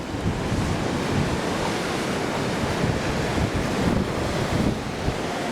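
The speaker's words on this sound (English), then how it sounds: "This is the Atlantic Ocean, as we call it on the East Coast, also known as the Gulf of Guinea" Atlantic Ocean surf breaks along the Gulf of Guinea coast of West Africa beside a whitewashed fortress, a loud continuous wash of waves mixed with buffeting wind on the microphone, no talking.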